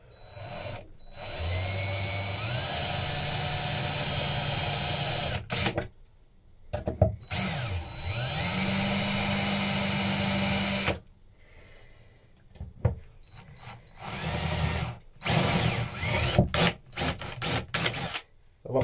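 A power drill boring holes in wood for a boat hatch fitting, several whining bursts that rise in pitch as the motor spins up, with short pauses and clunks between runs.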